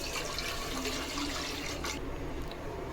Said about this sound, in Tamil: இப்போ வந்து இந்த தண்ணி வந்து இதில் போட்டுக்கலாம்.